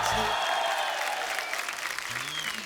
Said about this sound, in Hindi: आप सबकी जोरदार तालियों के बीच बुलाना चाहूंगा